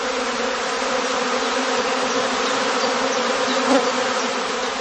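Honeybee casts swarming and clustering on pine trees at a heather skep apiary, a dense steady buzzing hum from many bees that stays continuous and fairly loud.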